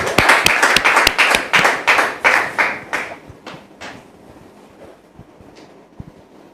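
A congregation in church claps in rhythm, loud evenly spaced claps that gradually thin and fade into a few scattered, quieter claps before settling to near silence.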